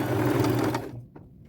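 A sewing machine stitches a lace bow onto a thrifted jacket. Its steady mechanical whir runs for just under a second, then cuts off, leaving near silence with a faint click.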